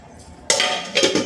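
A metal lid is set onto a pressure cooker of chicken curry on a high flame, giving a sudden loud clank followed by a couple of short metallic rattles close up, with no speech.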